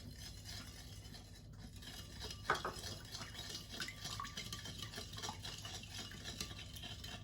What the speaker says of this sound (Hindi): अब अच्छे से इसको जो है वो मिक्स कर लें